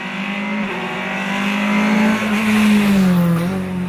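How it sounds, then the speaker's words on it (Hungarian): A loud rally car engine at the 2018 Ózd-Salgó Rallye in Hungary roars steadily, its pitch climbing and wavering as the car nears a corner and revs hard, growing louder toward the end. "ha jól hallom, akkor érkezik lassan autó"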